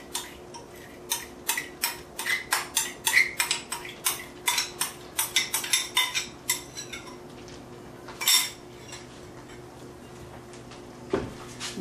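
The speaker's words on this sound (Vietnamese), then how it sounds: "Mình sẽ trộn đều nó lên." Marinated pork being mixed in a bowl, with a long run of rapid rhythmic clinks from a utensil striking the bowl, then a pause and a couple of isolated knocks.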